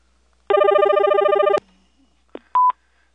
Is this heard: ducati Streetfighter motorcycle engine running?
no